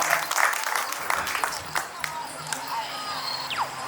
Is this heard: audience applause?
yes